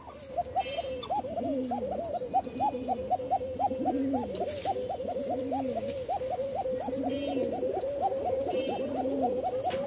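Pigeons cooing at a pigeon market, a male giving a long, rhythmic rolling coo repeated steadily and close by, with lower coos from other birds beneath and a busy murmur behind.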